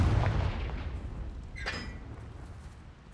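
A Confringo blast spell exploding in the Hogwarts Legacy video game, a low rumbling boom that fades, followed by a sharp crackling burst near the middle and a lingering tail.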